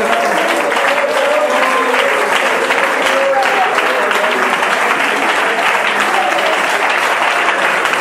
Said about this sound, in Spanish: Alguien adórelo con ese aplauso fuerte, fuerte, fuerte